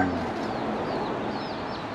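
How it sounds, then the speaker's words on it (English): Chickens cluck and small chicks peep steadily throughout, a busy, continuous flock sound with no talking, on the Big Island of Hawaii. "There's so little baby chickens."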